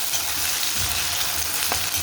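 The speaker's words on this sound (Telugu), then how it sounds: "టమాటా ముక్కలు వేసేసుకుని" Tomato pieces fry in a pan with a loud, steady sizzle that holds evenly throughout and is heard alone.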